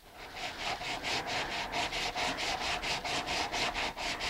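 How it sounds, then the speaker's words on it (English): Coarse-grit sandpaper is rubbed back and forth over the fin fillets on a high-power rocket tube, making a steady rhythmic scraping at close range with no talking. "So first we'll just take our coarse grit and just kind of go at it, making sure you don't sand too much of your actual tube."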